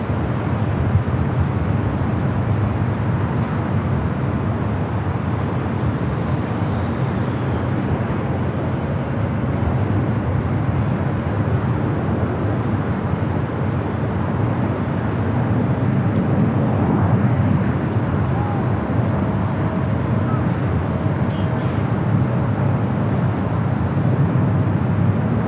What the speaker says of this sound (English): Emirates is now officially taken off.